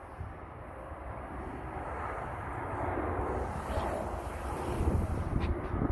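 An airplane at Sydney airport roars as a steady broadband engine rumble, growing slightly louder toward the end, with wind buffeting the microphone outdoors.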